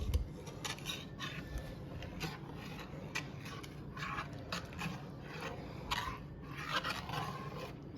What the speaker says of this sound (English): we add a 1/4 cup at a time, and we'll stir that in